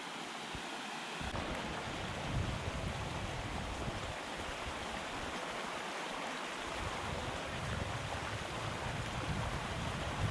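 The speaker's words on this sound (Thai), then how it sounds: "น้ำไหลทึ่นๆอยู่ท้งก็" Water pours steadily down a forest waterfall in the Laos–Thai jungle, a continuous broadband rush of splashing flow, close and fairly loud throughout with no voices.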